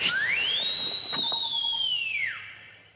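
One long, shrill whistle rises, holds steady, then drops off at the end, clear and alone against a quiet background.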